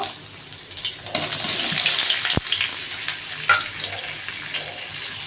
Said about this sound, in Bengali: দেখো আমি আলুগুলো একটু ভেজে নেব